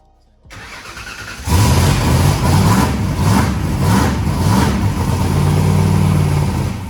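On its first start, a turbo engine cranks briefly on a hanging starter, then fires and revs loudly in a few pulsing surges before settling into a strong, close idle.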